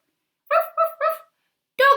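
A person imitates a dog's bark with three quick, loud, close woofs in a row, then one more after a short pause, set against silence.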